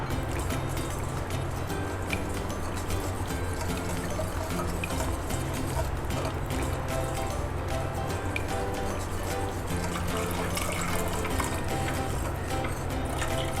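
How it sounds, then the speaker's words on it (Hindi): A milk mixture for eggless chocolate pudding pours steadily into a pan in one long, even liquid stream, with faint trickling over a low background hum and no talking. "ये सारा मिक्सचर हमने इसमें डाल दिया।"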